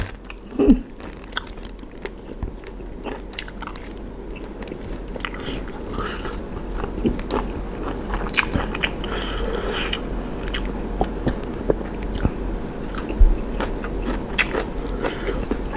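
Close, wet chewing and crunching of chewy fried small frogs, steady biting and mastication over about fifteen seconds with occasional sharper crunches and faint background noise.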